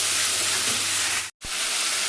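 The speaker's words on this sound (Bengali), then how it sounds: "তো চলুন এইভাবে আমি মশলাটা কিছুক্ষণ কষিয়ে নিই।" Cumin, coriander, chili and garam masala powders sauté in a pan for a Bangladeshi chicken roast, giving a loud, steady close hiss and sizzle with one brief cut to silence.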